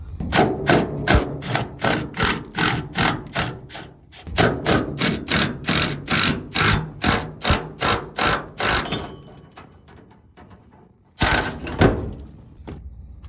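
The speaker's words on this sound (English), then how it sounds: "looks like my fuel tank was ready to come out with all that impacting" Impact wrench loosening bolts on the fuel tank of a 1966 Toyota Stout, loud rapid hammering bursts repeating in a steady rhythm for about nine seconds, a quiet gap, then one more short burst.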